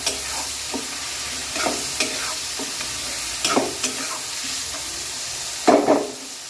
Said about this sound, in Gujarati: હવે એને સારી રીતના શેકી લઈએ। આ રીતના મેં ગેસ ફાસ્ટ જ રાખ્યો છે